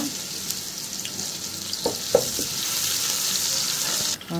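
Onions sizzle steadily in hot oil, a constant bright hiss broken by a few soft clinks and stirring taps.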